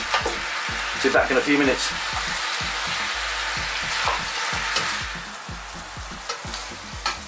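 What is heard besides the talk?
sticky pork ribs frying and being stirred in sauce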